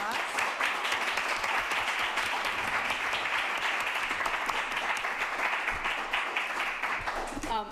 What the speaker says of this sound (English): if we could give this panel a round of applause.